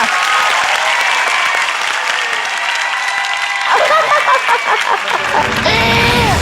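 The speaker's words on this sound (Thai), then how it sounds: "ปรบมือให้กับพี่บุญที่หน่อยค่ะ" An audience applauds for Boon on a comedy show, a loud dense burst of clapping that swells and continues, with voices and cheering rising over it toward the end.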